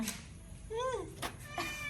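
A small cat meows once, clear and rising then falling, close by, with faint knocks and household noise around it.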